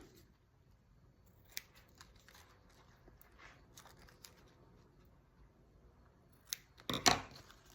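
Scissors trim the edge of a paper pocket note bookmark with a paperclip, heard as a quick close pair of crisp snips near the end after quiet faint rustling and occasional small clicks.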